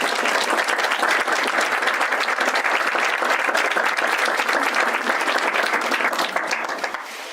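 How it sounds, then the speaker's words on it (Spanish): A seated audience at a panel discussion on the 1968 student movement gives a guest a loud, steady round of applause that holds for several seconds and tapers off at the end. "Pido un fuerte aplauso para nuestro invitado."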